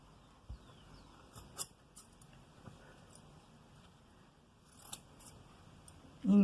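Scissors cut fabric strips for patchwork: a handful of faint, scattered snips and small handling clicks in a quiet room.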